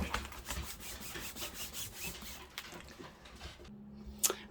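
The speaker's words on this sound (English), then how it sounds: "So let's give that a good old rub down." Paper is rubbed down by hand onto a Tim Holtz journal page in a series of soft, scratchy strokes, followed by a brief pause and one sharper tap near the end.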